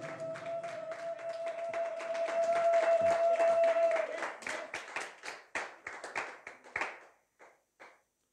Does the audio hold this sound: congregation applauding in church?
yes